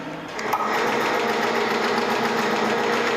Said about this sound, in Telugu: నేను రన్నింగ్ కోసం మీకోసం మిషన్ స్టార్ట్ చేస్తున్నానండి